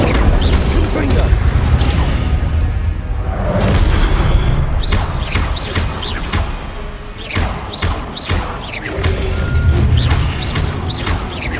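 Confringo fire-spell explosions in Hogwarts Legacy during a duel, loud booms and crashes repeating throughout amid a dense din of spell effects and combat.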